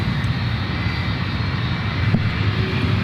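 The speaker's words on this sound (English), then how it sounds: "It's United Flight 277. Oh, we'll turn and burn. 757-200." United Airlines Boeing 757-200 jet airliner at San Francisco airport, its engines giving a steady, loud, continuous roar and rumble that stays even throughout, with no talking.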